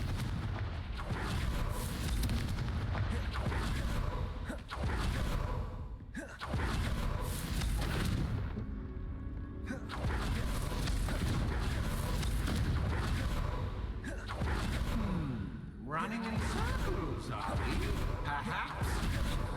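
Repeated booming spell blasts in the Hogwarts Legacy video game, a dense run of loud explosive thumps and crackling bursts with brief gaps, speech faintly underneath.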